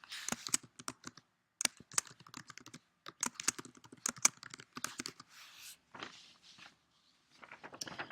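Bursts of typing on a computer keyboard, quick clustered keystrokes in irregular runs with short pauses, close and fairly crisp, with no talking.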